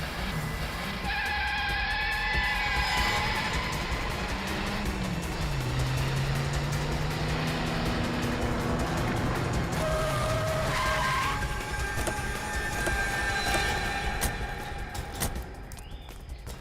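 A car braking hard and skidding to a stop, drawn-out tyre squeals sliding in pitch over a loud engine and road noise, tapering off at the end.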